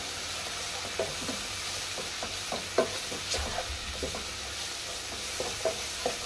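Chicken masala fries in a pan with a soft, continuous sizzle while a spoon stirs it, adding scattered light scrapes and taps; close but fairly quiet.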